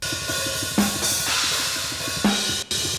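A soloed splash cymbal layered with an added sample from a metal mix plays as short bright crashes that ring over a repeating rhythmic pattern, loud and alone with no voices.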